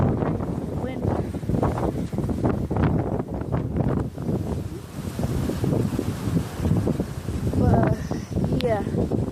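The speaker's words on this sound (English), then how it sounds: "it's just that's wind." Strong gusting wind during Hurricane Michael, roaring and buffeting the microphone in uneven surges, with a person talking throughout.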